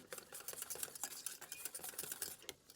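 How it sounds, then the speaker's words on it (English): A whisk beats buttermilk into sorghum gingerbread batter in a bowl, a quick, rhythmic ticking and clinking of metal against the bowl, soft and close, with no talking. "So in goes the buttermilk. I'll whisk that in."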